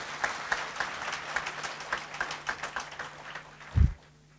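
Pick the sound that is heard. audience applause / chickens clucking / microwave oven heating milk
audience applause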